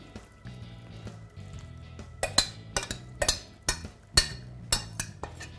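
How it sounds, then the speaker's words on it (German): Stirring Pichelsteiner stew in a pot, with repeated sharp metallic clinks of a spoon against the pot rim in a steady rhythm over a low background hum; no pouring of broth is distinct. "Kurz umrühren, sofort aufgießen."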